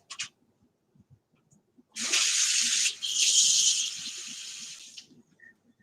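Water pours from a tap into a hot pan holding butter and pepper while knock-off ramen is cooked, a steady close hiss lasting about three seconds with a brief break midway, then tapering off to quiet clinks.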